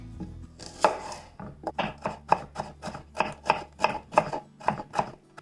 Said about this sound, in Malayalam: ഞാനിവിടെ ചെറിയ 3 സവാള എടുത്തിട്ടുണ്ട്. ഇതൊന്ന് സ്ലൈസ് ചെയ്തെടുക്കാം.